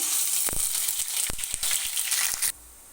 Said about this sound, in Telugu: ఫ్రై అయ్యేంత వరకు కలుపుకోవాలి మెరూన్ కలర్ వచ్చేంత వరకు బాగా ఫ్రై అయితేనే